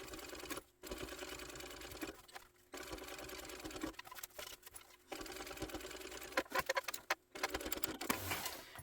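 A sewing machine top stitches a zipper bag closed from zipper tab to zipper tab, running in steady bursts of rapid stitching broken by several short pauses, close and clear with no talk.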